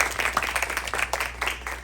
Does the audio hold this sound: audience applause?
yes